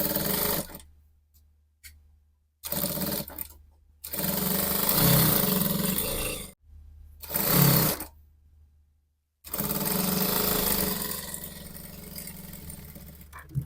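A domestic sewing machine runs in several bursts of steady motor whir, stitching the side seam of a baby dress at a 1.5 cm allowance, with short pauses between runs and no talking.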